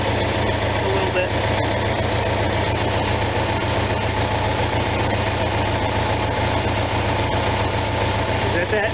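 An Onan RV generator engine idles in a continuous, loud, steady low drone with a fine vibrating rumble, close up throughout.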